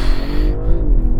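BMW 1 Series launching hard from a standstill, a loud close engine roar heard from inside the car with a rising then easing tone, brief and without talk.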